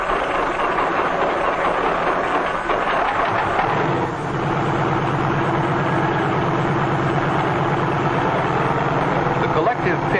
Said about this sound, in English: A self-starter starts the engine, and after a careful warm-up,